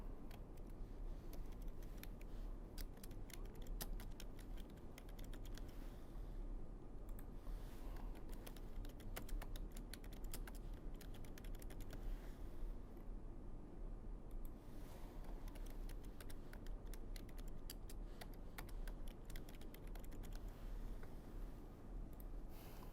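Text is typed into Microsoft Word on a computer keyboard, producing continuous quiet clatter over a steady hum, with busy stretches of keystrokes broken by brief lulls.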